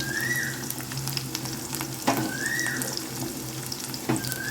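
Small onions and garlic fry in oil for sardine fish curry, a steady close sizzle with periodic spoon scrapes and occasional short rising squeaks recurring every couple of seconds, no voices.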